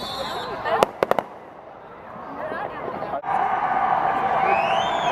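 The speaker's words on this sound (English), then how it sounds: "Yeah, that was a firework right there." Fireworks bursting outdoors during a Fourth of July celebration, a quick cluster of sharp bangs followed by crackling and a rising whistle, with crowd chatter and voices in the background.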